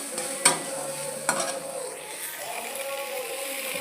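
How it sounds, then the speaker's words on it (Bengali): Fried bitter gourd and eggplant are stir-fried in a pan, giving a low sizzle with two sharp clanks of a spatula early on, then quieter scraping, close and with no talking. "তারপরে ভেজে রাখা উচ্ছে আর বেগুন ওর সাথে দিয়ে দেব, দিয়ে কিছুক্ষণ কষিয়ে নেব"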